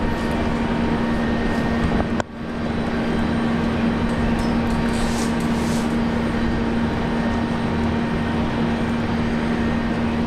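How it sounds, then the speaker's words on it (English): Air New Zealand A320neo airliner at Brisbane Airport on Australia Day, a loud continuous jet engine roar with a steady tonal hum and one brief dip partway through. "A A320neo from Air New Zealand."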